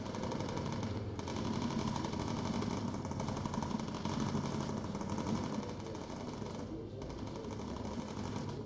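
A ball turret machine gun fires in the Bomber Crew video game as a dense, continuous rattling burst over the heavy drone of bomber engines, with brief dips in intensity and voices faintly under it.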